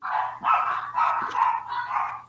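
Two dogs bark repeatedly in steady bursts, fairly close and loud, with a faint low hum underneath and no talk.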